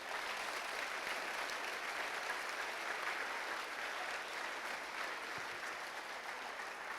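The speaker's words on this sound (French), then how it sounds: "Je vous demande de l'applaudir chaleureusement." Warm, sustained applause from a gala award ceremony audience fills the whole stretch as a dense, steady wash of clapping at even loudness, with no voices over it.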